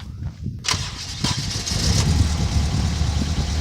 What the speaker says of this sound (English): What I'm going to do is start the car up, and it'll probably squeak